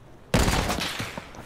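A sniper rifle trick shot in a video game fires one sharp, loud blast after a moment of near silence, its echo trailing off briefly.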